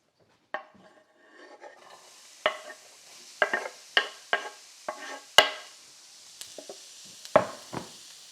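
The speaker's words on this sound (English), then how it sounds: "Now I go ahead and add my onions" Onions tossed into a pan of browning beef, with a string of distinct scraping and clacking stirs against the pan over a faint sizzle, close up.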